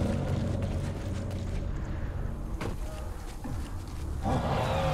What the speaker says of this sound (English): The monster has evolved. It sounds angry.